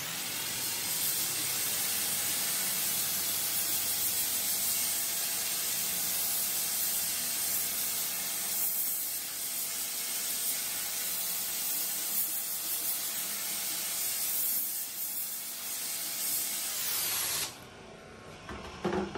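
A hot water pressure washer blasts a steady, loud spray of water against a graffiti-coated wall, hissing continuously for most of the stretch before cutting off near the end.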